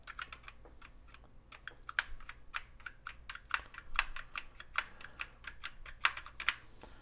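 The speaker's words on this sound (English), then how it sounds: "try pushing all the buttons, make sure they make a little bit of a clicky sound." Buttons on a quiet-click keyboard for a Color Computer 3 pressed one after another, producing a fast, irregular run of light, crisp clicks with near, close-up detail.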